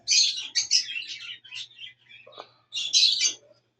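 Pet African parakeets being fed corn chirp in quick, bright bursts of twittering calls, close and clear with short pauses between phrases.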